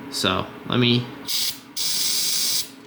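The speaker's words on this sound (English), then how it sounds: "gonna spray some starter fluid right into the cylinder" Starter fluid sprayed into the cylinder of a 2006 Honda Rancher 350 ES ATV that won't start: two close, crisp aerosol hiss bursts, the second longer, just after someone speaks briefly.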